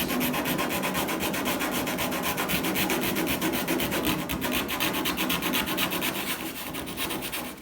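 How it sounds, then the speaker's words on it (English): A race car hood on a Fox Body build is sanded to fit, giving a loud, close, continuous rhythmic rasping scrub of rapid back-and-forth strokes with no talk. "Sand it until it fits."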